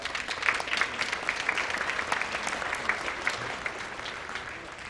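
An audience at a high school spring concert claps steadily for several seconds, the applause somewhat distant and moderately loud, with no voices rising above it.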